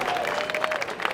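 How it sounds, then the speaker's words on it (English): Spectators at a St. Patrick's Day parade in Alexandria, Virginia, break into a brief burst of outdoor applause, a short wash of clapping lasting about a second. "So give yourselves a round of applause."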